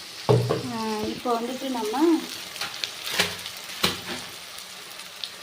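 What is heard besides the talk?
sautéing masala for mutton curry in pan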